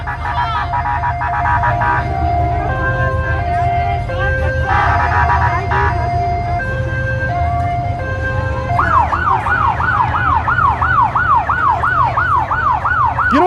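Wailing emergency vehicle sirens, several overlapping, with a steady rising-and-falling wail and a rapid yelp later on, loud and close over a low street rumble, during live election-night coverage in Seattle.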